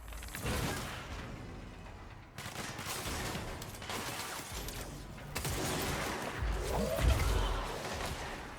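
Explosions and gunfire ring out during combat in the video game Control, with bursts of rapid shots and crashing impacts in three distinct waves, moderately loud over a busy background.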